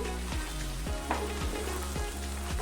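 A tomato mixture with chili powder and salt fries steadily in a pan for tomato pickle, a constant close sizzle broken by regular spoon scrapes and stirring knocks roughly every half second.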